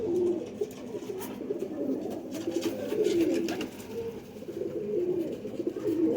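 A pigeon coos close by in repeated low throaty bursts, several rolling calls spread across six seconds over faint background noise.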